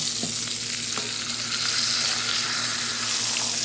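Pork chops fry in olive oil in a stainless steel pan over low-medium heat, giving a steady, close sizzle with a few small pops and no talking.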